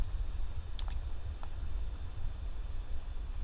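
Mouse clicks in Adobe InDesign while exporting an interactive PDF: two quick clicks close together, then a single click a moment later, crisp and near over a low steady hum.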